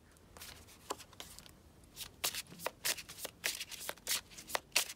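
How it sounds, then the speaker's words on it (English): A tarot deck is shuffled at close range, giving a run of crisp riffling and flicking bursts that grow busier and louder toward the end, with no talking. "This deck has been shuffled so much."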